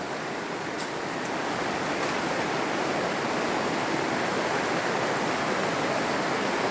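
Heavy rain falls on a hillside forest in a dense, continuous hiss, steady and fairly loud with no voices.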